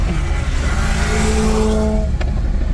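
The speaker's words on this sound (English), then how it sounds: "we tried racing the TT in the Civic" A Honda Civic racing an Audi TT, engine note rising and revving steadily and loud throughout, with a tonal whine that climbs and then drops near the end.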